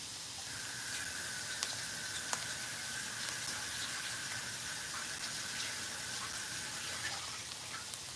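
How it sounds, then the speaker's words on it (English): Water runs steadily from a kitchen tap as hands are washed beneath it, a soft continuous hiss with faint splashes and small clinks throughout. "Now wash your hands."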